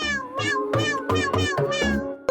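A cat meows repeatedly, about six clear, close meows in quick succession, ending with a short click.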